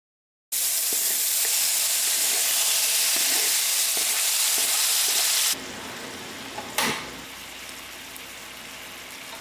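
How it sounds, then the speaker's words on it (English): Mushrooms sizzle and crackle loudly in a hot pan as they are tossed around, then the frying drops to a softer hiss partway through, with a brief clatter after. "We're just going to toss all of those mushrooms around."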